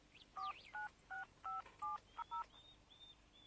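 A telephone number is dialed as a series of about seven short, evenly spaced keypad tones, clear and moderately quiet, followed by a faint ringing tone.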